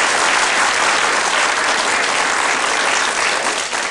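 Studio audience applause on a 1986 Swedish television entertainment show, a dense, loud, steady wash of many hands clapping that fills the whole stretch with no voices over it.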